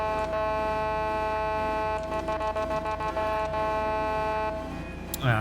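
A long, blaring car horn from the video game GTA V holds a sustained buzzy tone, stutters in rapid pulses midway, then cuts off abruptly with a thump.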